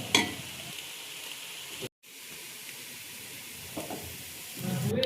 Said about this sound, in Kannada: ಈ ಥರ ಸ್ವಲ್ಪ ಆಮ್ಲೆಟ್ ಥರ ಫ್ರೈ ಆಗೋವರೆಗೂ ಬಿಟ್ಟ ಮೇಲೆ